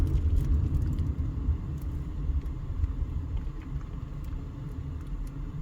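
Steady road traffic rumbles past on Warm Springs Road in Las Vegas, a continuous low drone of car engines and tires, fairly close and without talk.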